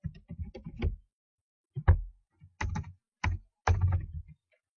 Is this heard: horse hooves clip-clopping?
no